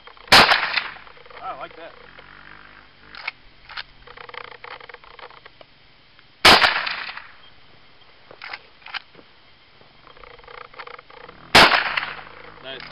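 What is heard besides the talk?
gunshots from a 30-30 rifle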